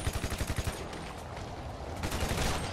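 Rapid bursts of gunfire in GTA Online (GTA 5), a quick rattling volley followed by sustained shooting, loud and close with no talking.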